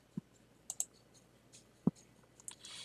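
A few sparse, sharp computer mouse clicks, irregularly spaced and close, in an otherwise quiet room.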